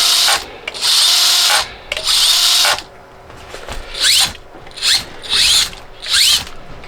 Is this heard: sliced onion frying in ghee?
no